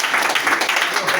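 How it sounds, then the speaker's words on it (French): Congregation applauding and cheering for the pastor at a French-speaking church service, a dense, steady wash of clapping and crowd voices that fills the whole short moment. "On acclame le pasteur."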